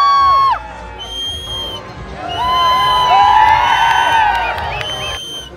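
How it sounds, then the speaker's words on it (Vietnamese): A crowd of men at a desert camp dance show in Dubai whoops, shouts and whistles, with rising and falling whistles and cheers layered over a busy background, loud and close. "các anh có vẻ giống Ấn Độ xung quanh thì có vẻ rất là khoái, hú hét huýt sáo như thể lần đầu được thấy con gái vậy"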